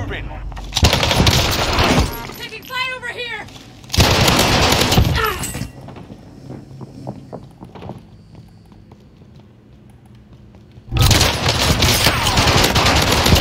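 Loud bursts of gunfire in the Warzone video game come in three separate heavy volleys with quieter gaps between them, and players' voices are heard during the lulls.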